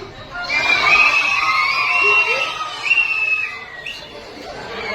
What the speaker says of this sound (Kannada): ಹುಡುಗರು ಜೋರು ವಿಷಲ್ ಹಾಕ್ತಾರೆ ನೀವು ಹಾಕಿ